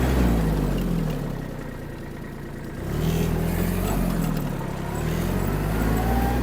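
A Kubota A-195 Japanese mini tractor engine runs steadily at top speed in rear-wheel drive, a loud low drone that dips briefly then rises again with a droning hum throughout.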